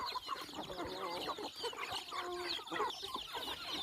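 Four chickens cluck and murmur inside a woven basket cage at a rural farm hut, a near, busy mix of overlapping clucks and squawks over a low background hum.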